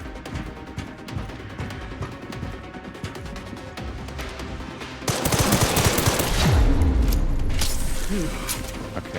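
Gunfire in Resident Evil 9 Requiem rings out as a steady stream of sharp shots, intensifying into heavy, loud close-range bursts with booming impacts in the second half.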